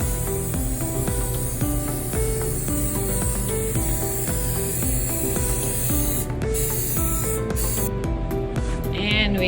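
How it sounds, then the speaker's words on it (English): Cooking spray hisses steadily onto a muffin pan while blueberry muffins are being made, a continuous aerosol spray running for most of the clip over a busy kitchen background. "So we'll spray the pan so it doesn't stick."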